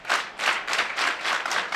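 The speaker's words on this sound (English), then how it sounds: "Everybody giving a hand clap" Audience clapping at a college golf team championship final, a steady burst of many hands applauding together, moderately loud and fairly close, with rhythmic swells and no talk.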